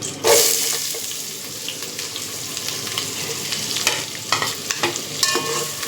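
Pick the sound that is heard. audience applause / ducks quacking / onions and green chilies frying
onions and green chilies frying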